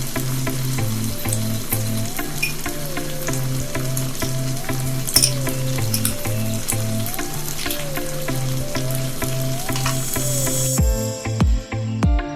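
Tamarind pulp is stirred into a sizzling koli prawn curry in the pan, giving a continuous loud frying hiss with rhythmic scraping strokes of the spoon that stop near the end.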